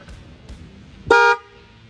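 One short, loud honk from a Mitsuba Alpha 2 horn fitted to a Toyota Corolla, just after its wiring was fixed: a bright, buzzy blast lasting a quarter second against quiet background rumble.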